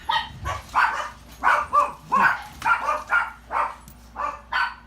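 A dog barks in a steady, rhythmic series of about a dozen close, evenly spaced barks over several seconds, fairly loud and with no talking over it.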